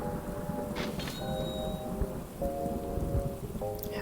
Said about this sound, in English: Listen to that loud thunder.